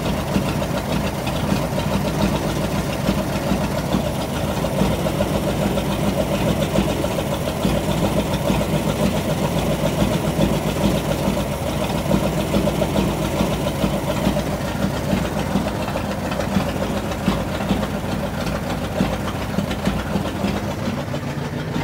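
A 1937 Ford engine that sat unused for a year idles roughly, giving a continuous close rumbling drone with uneven knocking and no voices.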